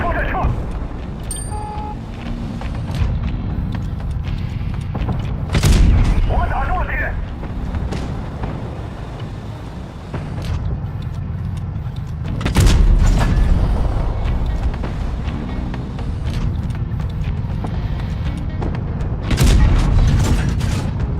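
Gunfire in the game Reforged lands as several heavy booming shots spaced across the stretch, mixed with ongoing game noise while someone talks throughout.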